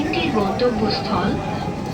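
A Dhaka metro rail train runs with a steady, close rumble that continues throughout, while an onboard announcement and nearby voices talk over it.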